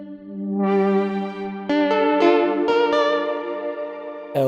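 A Nexus 3 VST software synth plays a sustained, bright harmonic chord through its filters, with a swelling onset, several re-struck notes and a sharp new attack at the end, steady and loud with no voices.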